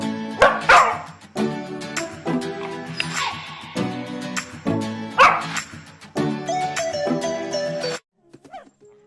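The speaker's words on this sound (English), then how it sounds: "Bark, bark, bark, bark, bark, bark, bark, bark." A dog, called Doki, barks repeatedly in bursts over about eight seconds, fairly close and loud, with whimpering yips mixed in before falling quiet.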